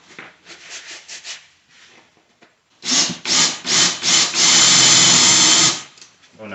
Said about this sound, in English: ratchet my torque all the way up the hammer driver and try to get this in as far as I can